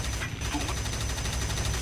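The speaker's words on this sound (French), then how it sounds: "vos mitrailleuses et vos canons" Machine guns and cannons fire in War Thunder on PS4 as a dense, continuous rattle of rapid shots at low volume, without clear speech over it.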